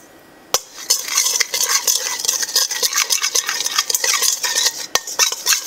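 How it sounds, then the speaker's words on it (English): A spoon stirs cayenne and other spices into oil in a bowl for kale chips, with a steady run of close, scraping clinks and swishes after one sharp opening tap. "I'm going to grab a spoon. Just kind of mix the spices up in the oil"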